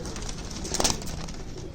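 Punjabi pigeons give a soft, brief coo in the middle of a short, noisy stretch, fairly faint and heard against steady background hiss.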